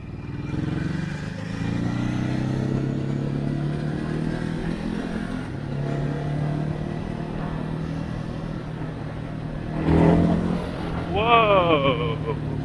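A Ducati Hypermotard 950 RVE engine drones steadily on a test ride, with a rising surge of revs near the end, wind noise over the bike, close and moderately loud.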